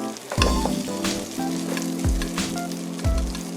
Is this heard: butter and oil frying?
yes